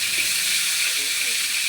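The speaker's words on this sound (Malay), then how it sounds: "Kita goreng bawang dia dulu." Onions frying in a hot pan: a steady, loud, broadband sizzle with no breaks.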